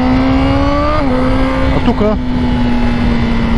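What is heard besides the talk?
BMW engine revving with open exhaust valve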